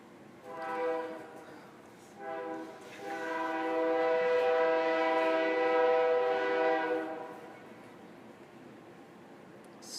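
A train passes outside, its horn sounding a short blast, then a long sustained blare that swells and fades, over steady rumbling background noise.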